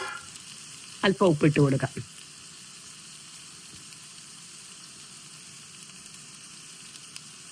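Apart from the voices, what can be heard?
ingredients sautéing, sizzling in a pan for chicken roast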